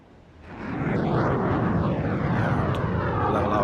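Eurofighter Typhoon jets roar past in formation at an air show, a loud sustained jet rumble swelling within the first second and holding steady and close.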